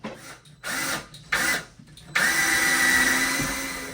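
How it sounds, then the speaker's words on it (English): A power drill drives screws through a ledger board held against a wall, with short bursts of whirring early on and then one longer sustained run, close and fairly loud. "I'll get a couple screws in."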